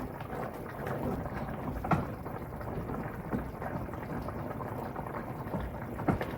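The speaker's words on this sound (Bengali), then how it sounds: "মিষ্টি কুমড়া বেগুনটা ভালোই সেদ্ধ হয়ে গেছে এখন আমি এতে দিয়ে দিব আমার ফুলকপিগুলো" Pumpkin, eggplant and cauliflower boil together in a covered cooking pot, giving a steady, dense bubbling hiss with occasional louder pops, continuous throughout and with no voices.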